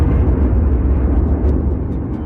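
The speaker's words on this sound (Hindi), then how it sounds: "बीच के इस भयंकर दबाव के कारण एक विशाल विस्फोट हुआ" A huge explosion sound effect portraying the birth of the sun: a loud, deep, rumbling roar that is already at full strength at the start and sustains heavily for a couple of seconds with only a slight fade, with no voices.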